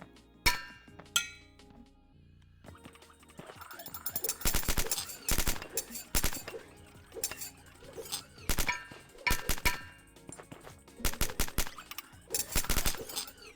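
Video game gunfire in an indie game demo, repeated sharp shot bursts and rapid volleys with metallic clinks, loud and close, scattered irregularly across the stretch without talk.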